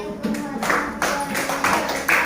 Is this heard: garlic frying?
no